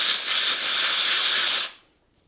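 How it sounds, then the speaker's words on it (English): A can of air duster sprays onto an SRAM Code/DB8 bike disc brake, one steady loud hiss lasting under two seconds before cutting off into silence. "So last step, I'm gonna come in with dust off. If you don't have compressed air, this is a great option."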